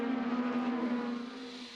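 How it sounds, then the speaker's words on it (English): A Gainbridge Honda IndyCar engine runs out of gear on the IMS road course, giving a steady droning hum with no revving that fades slightly toward the end. No one speaks. "Engine is running, but it doesn't sound like it's in gear."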